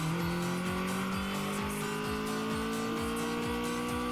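Race car engine in the video game Redline Reverie during a time attack run, a loud sustained engine drone with steadily rising pitch and a rhythmic pulsing pattern, no voices over it.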